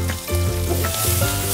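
Food stir-fried in a pan with sauce, water, tomato and green onion gives a loud, continuous close sizzle, with faint stirring movement under it and no talking.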